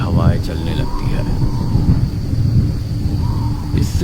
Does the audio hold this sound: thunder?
yes